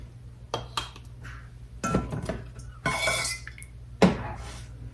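Small 8-ounce glass jars handled for refrigerator bread and butter pickles, giving close clinks and knocks of glass on a hard surface, with a rustling stretch and a sharper clink near the end.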